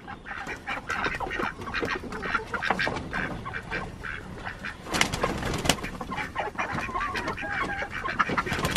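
Ducks and other farm fowl at a nest quack and call continuously, a busy overlapping chorus of bird noises close at hand.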